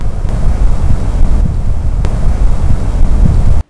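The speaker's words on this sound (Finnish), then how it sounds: "Tällä hetkellä tuulee aika kovasti." A strong wind blows hard across the microphone near a 1918 battle site at Tarinmaa, a loud and continuous low roar and buffet that stops abruptly at the end.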